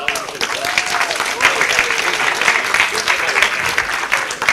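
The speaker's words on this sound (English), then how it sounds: "Give yourself a round of applause" Students at a university opening ceremony clap for themselves in a loud, sustained burst of crowd applause, with a few voices calling out faintly beneath the clapping.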